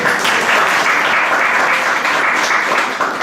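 A temple audience at ISKCON Brampton claps steadily after a Bhagavad Gita class, dense, loud and continuous for the whole stretch with no talking over it, easing slightly at the end.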